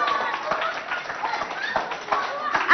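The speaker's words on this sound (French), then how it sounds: "On applaudit." An audience applauds at a school competition event, scattered hand claps in an irregular patter with a few sharper close claps, while voices carry over the top.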